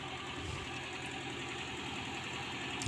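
A motorcycle engine with a rough idle, stalling at low throttle and shaking, runs as a steady, close, rumbling drone for the whole stretch with no clear cut-out.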